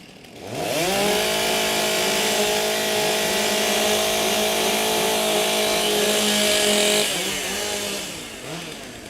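STIHL chainsaws warming up at a timbersports championship, several engines revving together into a loud sustained roar that holds steady for several seconds, then eases off near the end, with no one talking.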